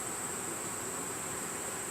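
A small swarm cluster of honey bees gives off a steady, faint buzzing hum. It stays even from start to finish, with a thin high whine over it and no voices.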